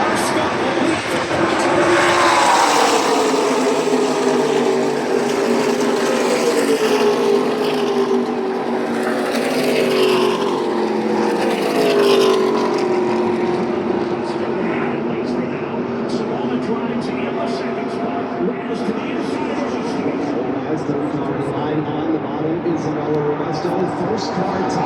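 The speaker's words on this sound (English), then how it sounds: "the field comes screaming back to the start finish line" A field of race cars screams past the start-finish line, heard from the stands with engines roaring and sweeping by in overlapping waves that swell and then gradually fade into a distant drone.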